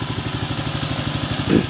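A Honda 5.5 horsepower boat engine idles nearby with a steady fast-pulsing low chug and mechanical clatter, fairly loud and even, with a brief bump in level near the end.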